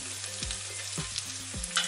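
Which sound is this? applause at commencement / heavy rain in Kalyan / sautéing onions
sautéing onions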